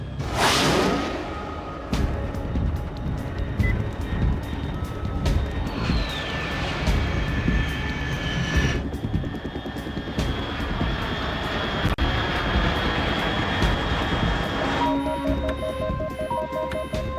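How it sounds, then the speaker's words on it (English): An aircraft roars overhead in Metal Gear Solid 3: Snake Eater, a loud sustained engine drone opening with a sharp whoosh, joined by whining tonal layers and steady rumble throughout. "Unidentified aircraft detected."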